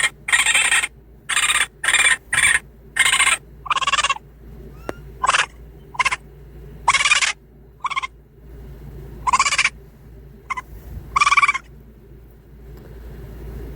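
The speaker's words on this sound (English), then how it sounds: "Raccoons, they have their own little complete mess of sounds." Raccoon calls play back from a hunting call app, a loud series of about fifteen short, shrill chattering bursts in an irregular rhythm with quiet gaps between them.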